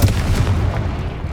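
A Confringo fire spell goes off in the Hogwarts Legacy video game as a dense, rumbling blast. It rolls on for over a second with no talk over it.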